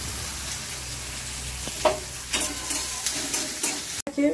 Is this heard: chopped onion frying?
yes